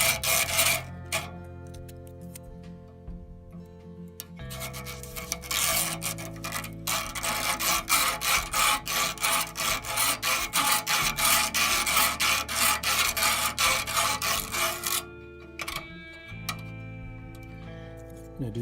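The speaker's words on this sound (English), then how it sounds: "If I rub this way, we're going to get the underside of the base of the rail." Repeated rasping strokes of a file rubbed along the underside of the base of a hand-laid model railway rail, used in building a dual-gauge turnout; steady, close, rhythmic scraping that pauses briefly between passes.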